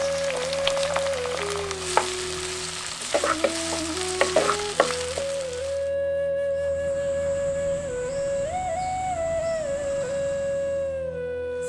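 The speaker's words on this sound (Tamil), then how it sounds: "சேர்த்துக்கிட்ட வெங்காயம் நல்லா பொன்னிறமா வதங்கினதும்" Steady sizzling of 200 grams of chopped shallots and curry leaves frying in oil, with scraping stirs early on and a faint tonal hum running underneath.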